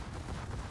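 Ship guns booming in a World of Warships naval battle, a dense, continuous rumble of low heavy gunfire filling the whole short moment with no pauses.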